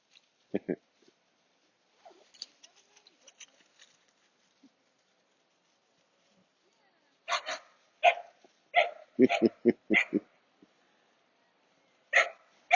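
A dog gives a burst of several quick, sharp barks close by, followed by more isolated yips after a mostly quiet stretch, with a person speaking in between.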